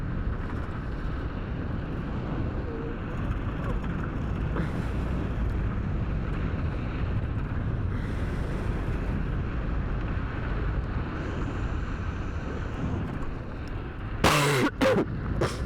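An electric hyperscooter is ridden over a bumpy road, its front end rattling. Steady wind rush and road rumble fill the whole stretch, with a short burst of sharp clatter near the end.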